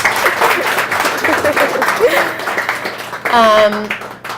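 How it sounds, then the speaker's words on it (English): A small group applauds at a casual AMA session, loose clapping running steadily under light chatter before a voice briefly rises above it near the end. "I like the applause"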